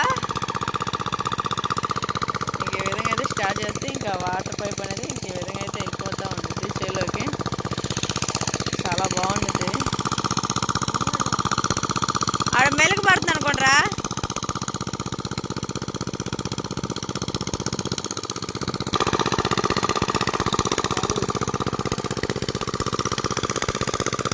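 An engine idles steadily and loudly throughout, with a voice speaking over the continuous rumble.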